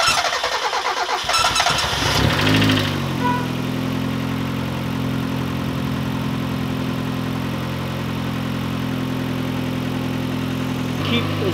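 A car engine is cranked over amid some clatter, fires up after a couple of seconds and runs at a steady, moderately loud idle close by, with a brief extra noise near the end.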